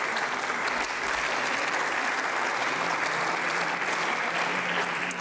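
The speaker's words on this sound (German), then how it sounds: "Und ihm sollten wir heute auch einen Applaus dafür spenden," Parliamentary applause for a minister in the Austrian National Council, a dense, continuous wash of many hands clapping at an even, loud level throughout.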